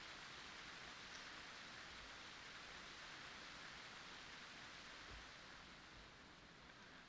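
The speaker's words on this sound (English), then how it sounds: "Oh, it's raining now." Steady, soft rain in the video game Final Fantasy XIV patters evenly with a faint hiss, quiet and unbroken throughout.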